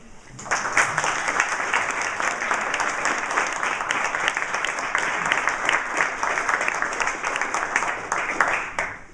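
Sustained audience applause welcoming Iraqi Ambassador Sumaida'ie at Champlain College in Vermont: dense, even clapping from a large crowd that starts abruptly and holds steady for about eight seconds.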